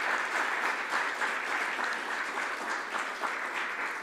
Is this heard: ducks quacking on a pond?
no